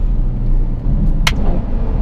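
A Novitec N Largo-modified Ferrari F12 sounds its engine and exhaust in a close, steady, throaty hum, broken by one brief sharp click midway.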